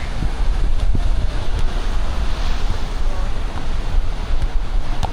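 Strong gusty wind of up to 40 km/h buffets the microphone in continuous loud rumbling gusts, with a roaring, surf-like wash underneath, at Playacar, Playa del Carmen.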